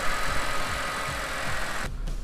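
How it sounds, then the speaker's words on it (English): A car engine running steadily at idle, a low continuous rumble with a faint ticking knock, loud and close with no talking. "start the car up, let it run for a minute"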